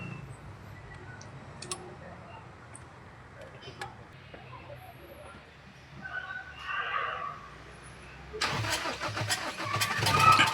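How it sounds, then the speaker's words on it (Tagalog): A Toyota Fortuner diesel engine cranking and catching after injector fittings were tightened, with a steady low mechanical rumble building into a louder, denser running roar near the end. "Umandar na yung engine."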